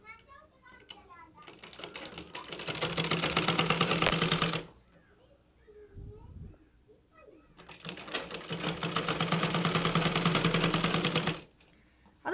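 A domestic sewing machine stitches a churidar collar neck in two long, steady whirring runs with a short pause between them, close and loud, with faint children's voices in the background.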